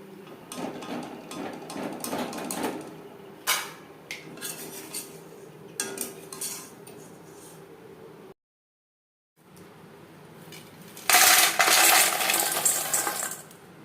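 Crispy fried nimki being handled and tossed, giving close, bright clattering and crunchy rattles in bursts, then a brief silence and a loud, dense burst of clinking near the end.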